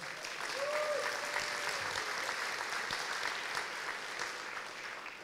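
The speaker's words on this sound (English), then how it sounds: "give yourselves a round of applause for that" Graduation audience applauding at a high school commencement in Asbury Park, a steady, fairly faint wash of clapping holding evenly for about five seconds with a brief whistle-like tone near the start.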